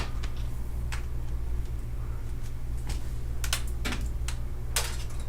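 Irregular keystrokes tapped on an old computer keyboard, clicks scattered unevenly over a steady low electrical hum, fairly close but light.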